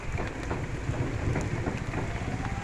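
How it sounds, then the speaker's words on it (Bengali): Heavy rain pours steadily at a bus stand in Faridpur, a dense continuous wash of drops with a low rumbling undertone, no voices. "প্রচুর পরিমাণে বৃষ্টি হচ্ছে।"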